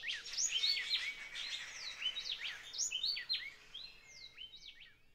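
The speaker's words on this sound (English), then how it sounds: "Two great kiskadees have started to talk again now." Great kiskadees give loud, harsh calls among other chirping birds near the Huatulco River, a busy, overlapping chorus of bright, nearby calls running steadily throughout.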